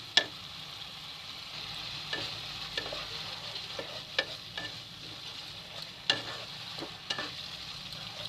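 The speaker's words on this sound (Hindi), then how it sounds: "अब मैं इसको पूरा मिक्स कर दूंगी इसको, और ये थोड़ा सा हल्का 5 मिनट के लिए और पकाना है इसको।" Masala with coriander powder frying in a pan, stirred with a spoon that gives sharp scraping and tapping strokes every second or so over a soft, steady sizzle, close by.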